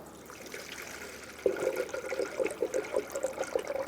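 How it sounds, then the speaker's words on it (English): Coolant pours into the radiator system of a 2007-2017 Ford Expedition with a 5.4L V8, a close, bubbling liquid gurgle that starts suddenly and keeps a fluttering, glugging rhythm. "Now we're going to fill our system up with coolant."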